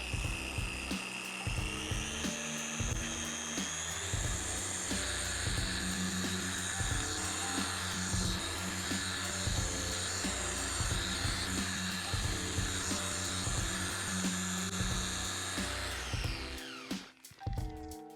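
A car polisher machine works over car paint with a steady high mechanical whine and hum, running continuously at close range before spinning down near the end. No one speaks.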